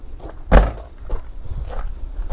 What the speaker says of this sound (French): si je ferme cette autre porte